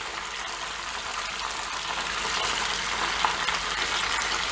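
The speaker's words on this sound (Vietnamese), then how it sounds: "Và mình tiếp tục mình chiên cái còn lại nha." Chicken pieces sizzle and crackle steadily in hot oil in a pan over high heat while cooking Vietnamese chicken curry, a dense close frying hiss without pause.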